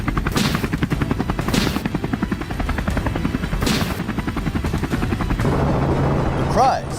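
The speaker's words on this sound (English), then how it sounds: "the helicopter blades slicing through the air, and the gunfire mixed with the roar of the engines" A helicopter's rotor thumps steadily and loudly while bursts of rapid gunfire crackle over it, the chopping continuing throughout.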